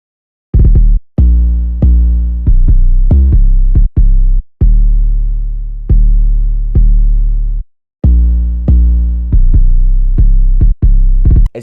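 A bouncy 808 bass pattern from a hip-hop beat, played alone, gives a run of deep, booming sub-bass notes in a syncopated rhythm. Quick repeated hits act as rolls, and longer sustained notes decay between the gaps.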